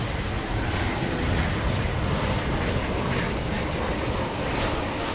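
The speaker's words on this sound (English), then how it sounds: "A Frontier plane going through the picture there" Frontier airliner passing at DFW Airport at night, a continuous dense engine rumble and hiss that stays loud and even for the whole stretch, with no talking.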